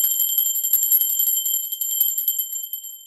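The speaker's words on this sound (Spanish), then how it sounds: "Estoy tocando poca campana" A small bell rings continuously with steady, rapid strikes, bright and close, sustained for several seconds with no voices over it.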